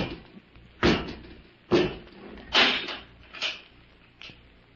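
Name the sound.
door being closed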